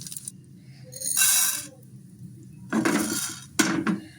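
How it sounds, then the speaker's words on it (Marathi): Chana dal is dry-roasted in a pan, heard as bursts of rattling and scraping as the lentils are stirred, separated by quieter pauses. "याच्यानंतर आपण हरभरा डाळ जी आहे थोडीशी ती टाकून तिला पण भाजून घेऊ"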